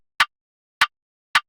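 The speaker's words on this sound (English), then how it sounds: "For this beat, I used a body countersnare from Cactus Cricket 4." Three evenly spaced, crisp body countersnare hits from the Cactus Cricket 4 kit for a drill beat, short bright snaps standing alone with silence between them.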